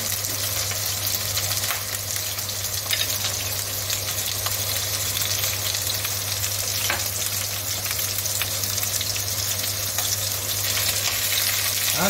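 Thin turkey escalopes fry in a pan with a constant loud sizzle and hiss, broken by a few soft clicks of utensils.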